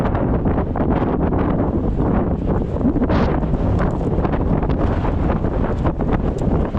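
Steady, loud wind buffeting a microphone outdoors during a long neighborhood walk, a continuous broadband rumble with gusty swells and no break, with no voices heard.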